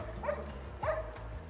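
On an outdoor agility course, a dog gives two soft, distant yips about half a second apart over a low steady rumble of background noise.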